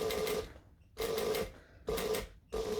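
A sewing machine stitches a quarter-inch seam on a bag in three bursts of rapid needle chatter separated by short pauses, close and clear with no talking.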